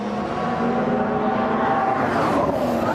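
Formula 1 race cars at the 2014 Bahrain Grand Prix, running close together toward turn 11, howl past in a loud, continuous engine whine that climbs in pitch near the end.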